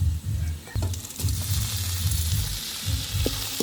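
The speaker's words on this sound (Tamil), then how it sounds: "வெங்காயம் கொஞ்சம் வதங்கி வரட்டும். நல்லா வதங்கட்டும்." Onions sauté in a pan over a village cooking fire, a steady close sizzle and hiss with occasional soft stirring scrapes and pops, with no talking.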